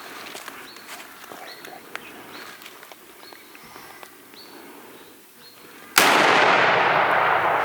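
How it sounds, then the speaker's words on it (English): One loud, sharp rifle shot cracks out at twilight during a goat and rusa deer hunt, then a broad roar of rumble and wind follows, after a quiet stretch of birdsong and faint rustling. "Take the shot."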